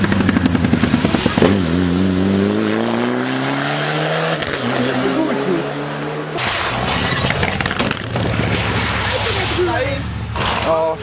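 A rally car at Rallye Oberland 2008 in Wildsteig approaches and races past at speed, its engine climbing in pitch through the gears, loud and close, followed by further engine noise and people talking.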